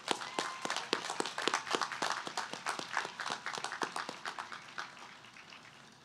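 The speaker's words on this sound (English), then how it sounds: "Let's give all those folks a round of applause." Audience applause at a STEM commencement ceremony: many hands clapping in a steady, dense patter for about six seconds, tapering slightly toward the end, with no talk over it.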